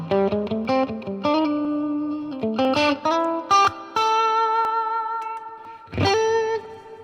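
An electric guitar through a Line 6 Catalyst amp with overdriven tone plays short riffs and sustained notes, washed in noticeable reverb, ending with a strummed chord that rings out.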